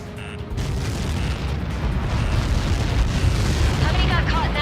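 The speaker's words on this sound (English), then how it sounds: "How many got caught in that explosion?" A huge blast from a Helios projectile impact in the video game Ace Combat 7 rumbles loudly and continuously, with a deep roar sustained for several seconds.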